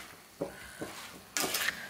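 A spoon works through a salted mushroom curry in a pan, giving a few soft scraping strokes followed by a brighter, louder burst of stirring near the end, close and without voices.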